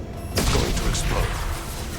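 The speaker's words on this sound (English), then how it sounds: "It's going to explode." Explosion in Mass Effect 2, a sudden loud blast that hits after a brief quiet moment and then rolls into a sustained rumbling roar lasting about two seconds.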